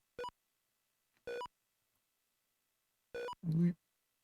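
Short electronic beeps from an Odyssey2 Casino Slot Machine video game, three separate tones spaced apart, followed by a brief buzzy burst.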